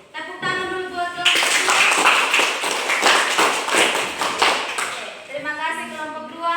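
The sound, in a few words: classroom clapping for a student group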